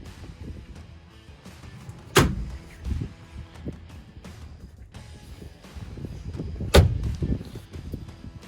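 The split tailgate of a 2020 Ram 1500 EcoDiesel pickup swings open like a barn door, with two sharp metallic clunks a few seconds apart amid quieter handling and rattling.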